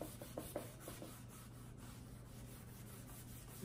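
Whitewash stain being rubbed into wooden furniture by hand, a soft continuous scrubbing with a few brief stronger strokes near the start, close and fairly quiet, no talking.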